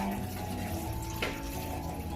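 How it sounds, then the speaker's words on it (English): Water pouring steadily into a wide cooking pot holding eggplants, a continuous close rushing and splashing flow with a faint hum beneath it and no talking. "And you're going to add water."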